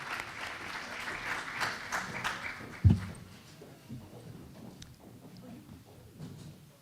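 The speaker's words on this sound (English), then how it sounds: "Let's give our administrators a round of applause, please" A school board meeting audience applauds its principals and assistant principals, a moderate burst of clapping that fades over several seconds, heard at a distance in a hall with a few louder claps and light crowd noise.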